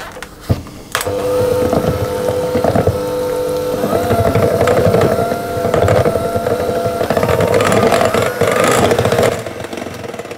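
Electric mixer beating vanilla extract and egg yolk together for a Breton sablé dough, a steady loud motor whir running nearly continuously with clattering scrapes against the bowl.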